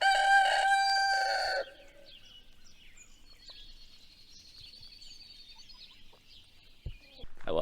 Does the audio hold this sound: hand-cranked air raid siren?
no